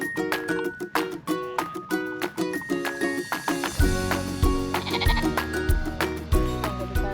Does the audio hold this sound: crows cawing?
no